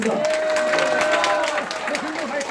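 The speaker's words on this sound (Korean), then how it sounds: "정말 큰 박수 한번 부탁드리겠습니다" Crowd at an outdoor patriotic political rally applauding a professor, a dense burst of clapping and some cheering mixed with voices, loud and sustained with a slight dip near the end.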